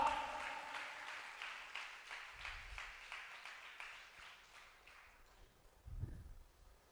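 Church congregation clapping hands together during a sermon, a steady run of rhythmic claps at moderate level, with low rumbles and some background noise in the hall.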